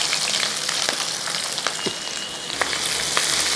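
Dried red chillies, green chillies and chopped onion sizzle hard in hot oil, a dense continuous crackle near and loud, with a few faint stirring scrapes rising through it.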